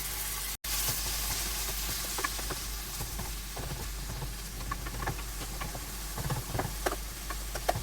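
Chicken shawarma pieces fry in a home pan, a steady close sizzle with scattered ticks and pops as the meat is stirred and turned, running alone without talk.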